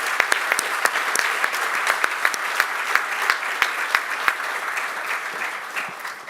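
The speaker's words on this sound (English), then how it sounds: "Please give these wonderful gentlemen a round of applause." A summit audience applauds a panel at a modular construction event, with dense, sustained clapping and sharper individual claps standing out before the applause tapers slightly at the end.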